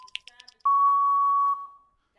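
A single steady electronic game show buzzer tone sounds for nearly a second, loud and clean, following a few short bleeps and faint background noise during a radio quiz.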